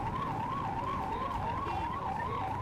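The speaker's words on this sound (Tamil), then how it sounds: "இதனால் அங்கு ஆம்புலன்ஸ் ஒன்று சிக்கியிருக்கிறது" An ambulance stuck in flooded-road traffic during heavy rain in Chennai, its siren wailing in a steady rising and falling cycle, somewhat distant, over a constant rumble of traffic.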